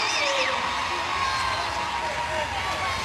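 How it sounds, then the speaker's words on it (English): A gymnastics arena crowd cheers for Jake Dalton at a Team USA versus Team World competition, a continuous broad roar of voices and whoops filling the hall for a few seconds. "Crowd getting riled up for Jake Dalton."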